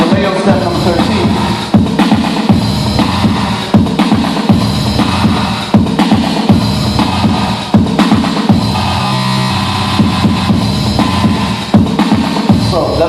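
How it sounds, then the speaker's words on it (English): A Roland AIRA drum pattern pounds along with a dense, loud electronic beat, echoing delay on one step and a glitchy scatter effect that stutters and chops the rhythm in bursts. "So that little glitchy effect you hear, that's what we call the scatter effect."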